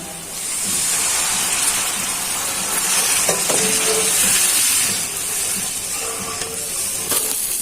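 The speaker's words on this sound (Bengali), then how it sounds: "এখন দিয়ে দিচ্ছি ঝোল" Gravy liquid poured into fried spice masala for an egg bhuna curry sets off a loud, steady sizzle and steamy hiss that lasts throughout, close up, with faint stirring clinks and no talking.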